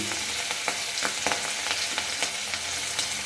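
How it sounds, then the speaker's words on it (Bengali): Fish frying in a pan of oil, a continuous quiet sizzle broken by irregular pops and spatters, close by and steady with no speech. "মাছ ভাজা করছি।"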